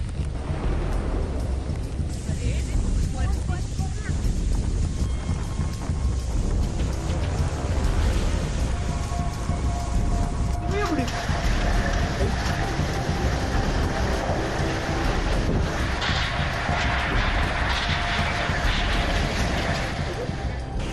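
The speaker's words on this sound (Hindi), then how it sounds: "तेज हवा और बारिश का असर मुंबई पर पड़ा है।" Cyclone Nisarga sweeps over Mumbai, and strong wind and heavy rain roar as a dense, constant wash of noise with gusty surges throughout.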